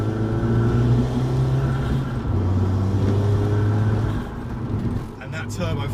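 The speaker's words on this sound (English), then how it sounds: "And that turbo flutter as well" Abarth 695 Biposto tuned to about 300 bhp runs with a steady engine drone and a shifting tone, then quiets briefly near the end; someone talks over part of the sound.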